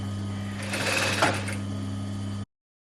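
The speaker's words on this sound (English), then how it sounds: "I've stitched from one side, I've pivoted at the point, through my side seam" A sewing machine stitches a seam on a vest, a loud close continuous hum with a steady buzzing whir that cuts off abruptly.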